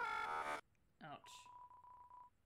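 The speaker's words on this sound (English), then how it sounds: "You tried to call on the cell phone." A cell phone call in the video game Deltarune Chapter 2: a short burst of garbled electronic noise, then a warbling chirp and a steady electronic tone with faint pulses, all fairly quiet.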